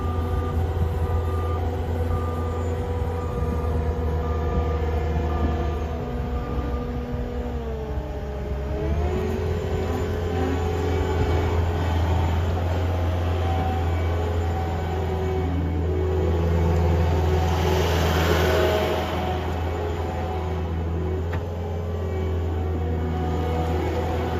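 A 2022 Caterpillar 279D3 skid steer running steadily, its engine a continuous low drone with a mild swell in the middle, heard alone.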